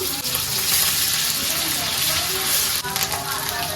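Oil sizzles and crackles steadily in a pan as chopped onion and onion paste go in with meat. The frying is close and continuous, with a brief clatter near the end.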